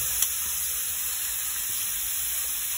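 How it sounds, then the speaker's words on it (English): Shrimp sauté in a pot with garlic and spices, producing a steady, bright, close sizzle that holds at an even level throughout, broken only by one tiny pop near the start. "we're gonna throw these right in the pot and get these sauteed"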